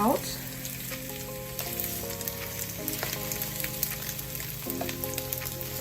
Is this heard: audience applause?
no